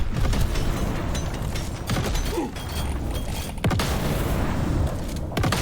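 Grenade blasts from a Gunner's incendiary grenades in the video game Deep Rock Galactic: Survivor, a dense wash of booms and crackling bursts with sharp hits near the four- and five-second marks over constant game noise.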